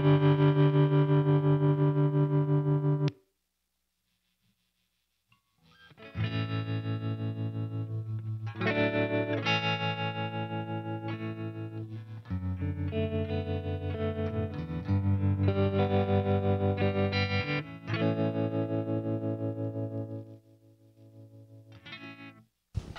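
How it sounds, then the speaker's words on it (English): An electric guitar played through a Boss Katana amp with tremolo switched on rings out in sustained chords and notes, with a short silent gap early on before longer held phrases. "nice rich tremolo."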